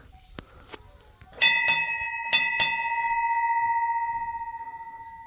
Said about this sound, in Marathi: घंटी वाजवूयात